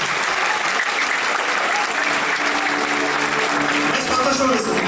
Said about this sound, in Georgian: ტაში თქვენ ყველას ერთად